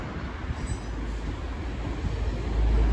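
A train rumbles through Selhurst station as the rear of a Gatwick Airport service passes, a steady low rolling rumble that swells louder toward the end.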